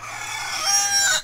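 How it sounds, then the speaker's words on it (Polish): A rooster crows on a farm in the video game Farmer's Dynasty, one loud drawn-out call that rises and holds with nothing else heard. "wiem, że jest farma, ale bez przesady z tymi kogutami"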